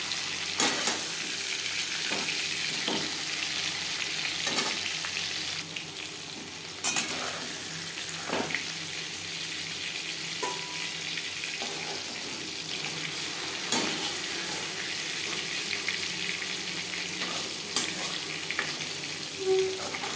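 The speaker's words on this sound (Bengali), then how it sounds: "মাছ ভাজা হয়ে গেছে" Hilsa fish fries in cooking oil with a steady, soft sizzle running throughout, broken by occasional clicks and scrapes of a utensil, heard up close at a low level.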